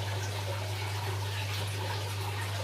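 Treated water pours steadily into a Juwel Rio 240 aquarium during a water change, an even rushing gush with a low electrical hum underneath and no voices.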